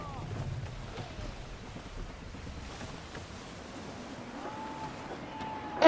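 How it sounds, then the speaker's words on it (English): Gusty wind at sea in Assassin's Creed 3 Remastered, sailing a ship through northern waters: a low, steady rush of wind and water, fairly faint, with a soft swell near the start and a gust at the end. "Wind looks to be shifting."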